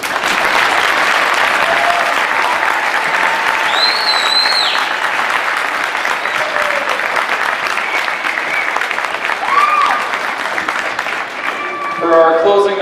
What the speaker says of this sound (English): they deserve one more round of applause